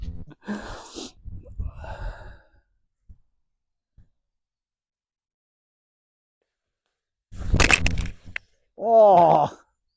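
A golf ball struck with a 5-wood gives one sharp, crisp crack late on, set apart from earlier murmured talk and followed by a voiced reaction. The rest is quiet.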